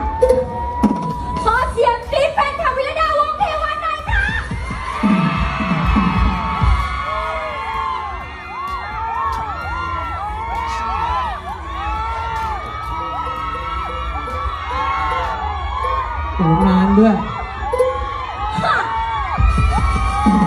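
A crowd of around two hundred people screams and cheers in bursts, with shrill whoops and children shouting, loud and close, while people talk over and between the cheering.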